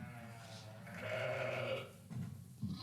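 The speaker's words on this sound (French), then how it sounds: "ça c'est la brebis. Voilà le bêlement." A recorded ewe's bleat played through a loudspeaker in a sheepfold, one long wavering bleat in the middle followed by softer animal sounds, moderately loud.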